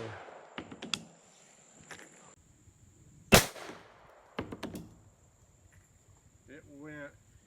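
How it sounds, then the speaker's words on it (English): A Winchester 53 rifle chambered in 25-20 WCF fires once into ballistic gel: a single sharp, loud report midway, surrounded by scattered clicks and handling knocks, with a faint voice near the end. "So I'm just going to shoot it kind of high, right about there."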